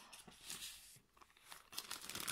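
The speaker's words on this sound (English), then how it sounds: "sorry for the crinkling" Plastic packaging crinkles and rustles close up in short, crackly bursts while a cross-stitch pattern is unpacked, fairly soft and continuous for a couple of seconds with no talking.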